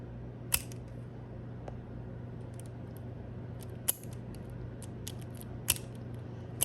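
An ignition switch clicks into its positions: a few sharp, separate clicks spaced apart over a low steady hum, close and fairly quiet.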